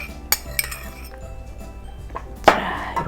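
Chopped vegetables go into an earthenware ttukbaegi pot with egg: clinks of a utensil against the pot, a couple of light taps early, then a louder clatter near the end, with a faint hum behind.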